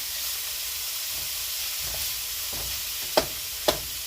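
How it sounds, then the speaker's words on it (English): Onions fry with hamburger meat in a pan for Texas picadillo, a steady close hiss and sizzle with two sharp taps of a utensil near the end. "I'm going to go ahead and add the onions with it."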